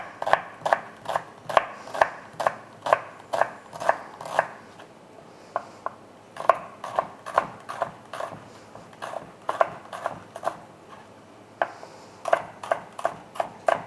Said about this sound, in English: I'm going to cut this onion ready for saute